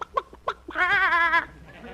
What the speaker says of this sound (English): Have a few chickens